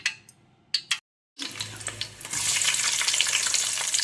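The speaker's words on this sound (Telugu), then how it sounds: "ఆనియన్ అన్ని కొంచెం గోల్డెన్ కలర్ వచ్చేంత వరకు మగ్గించుకుందాం." Chopped onions frying in oil in a pan for vegetable pulao, a sharp hiss after a brief pause that settles into a steady, close sizzle, with a few clinks and stirring knocks before it.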